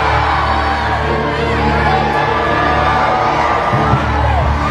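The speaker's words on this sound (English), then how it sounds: "Scream it louder. Shout it louder." A large crowd at a church prayer service screams and shouts together, loud and sustained, with overlapping yells and cheers filling the whole stretch without a break.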